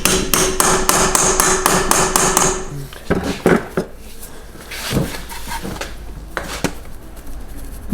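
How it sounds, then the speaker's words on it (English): Hammer blows on a metal part stuck on a car during turbo work, a rapid run of about eight sharp ringing strikes followed by a few scattered knocks and clatter, close and loud. "If it's hammer it back down"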